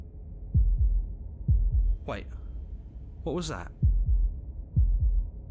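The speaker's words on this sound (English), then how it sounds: "That was the sound of a heartbeat" Low, thumping heartbeat pulses in a video game, spaced about a second apart, come through clearly while a voice speaks briefly over them.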